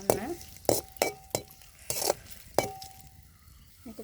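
Instant noodle ingredients stirred in a frying pan: sharp metallic spatula clinks and scrapes strike about six times at uneven intervals, close and distinct, over a faint sizzle.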